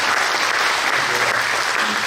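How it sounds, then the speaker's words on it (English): An audience claps steadily at a talk about escorting bombers in WWII air combat over Europe, a dense, even wash of applause from start to finish. "Give him a round of applause."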